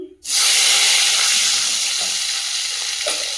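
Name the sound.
raw garlic sizzling as it fries in a wok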